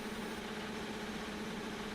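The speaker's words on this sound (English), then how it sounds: "Kyle Sotu is revving the engine like a madman." A race car engine in a wet-weather racing video game at Belgium, droning at steady high revs with a constant even tone and no breaks, moderately loud and alone.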